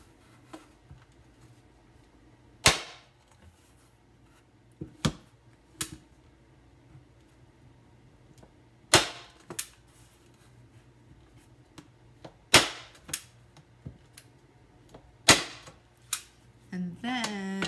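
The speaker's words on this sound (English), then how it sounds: "I'm going to go ahead and staple this in place. Sorry, it is kind of loud." Sharp, loud single snaps of a stapler ring out one at a time at irregular intervals, with quiet gaps between them.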